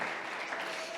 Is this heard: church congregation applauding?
yes